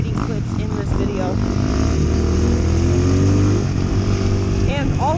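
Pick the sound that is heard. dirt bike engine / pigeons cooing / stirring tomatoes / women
dirt bike engine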